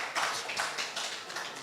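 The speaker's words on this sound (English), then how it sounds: "A round of applause for them. Let us encourage them." Applause from a conference audience at a real estate stakeholder event, a brief, steady patter of clapping hands with no voices over it.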